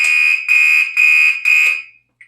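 Gentex fire alarm sounding very loud and close, four long piercing tone bursts in steady rhythm with short gaps, then a brief faint chirp at the end.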